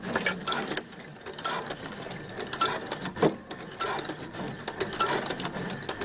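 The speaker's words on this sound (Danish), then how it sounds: "Og på den måde kan jeg sy her hen igennem båndet, selvom det er ret tykt." Sewing machine stitching through a thick strap while a belt bag is being made, a fast mechanical whir with a rattling, ratcheting rhythm, close and steady, with one brief louder knock near the middle.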